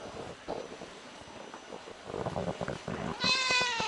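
A cat meows beside a boiler room that has just started heating, with a few short calls near the end over rustling, handling noises and wind-like rumble, and someone talking through much of it.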